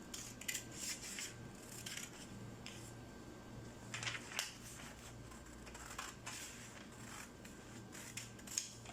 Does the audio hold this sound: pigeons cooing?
no